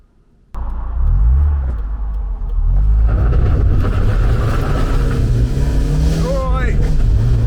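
An old Mazda MX-5 Miata starts off, its engine growling loud and close as it pulls away and revs through gears, a continuous throaty drone with rising pitch.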